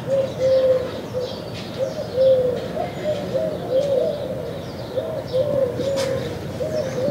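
Doves coo repeatedly in soft rhythmic phrases in a backyard while other birds chirp faintly in the background, steady throughout.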